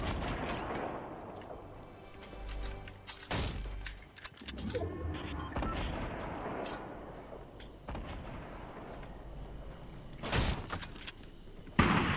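Gunfire in the Fortnite video game comes in loud, repeated bursts of shots and heavy impacts, with the sharpest volleys about a third of the way in and again near the end.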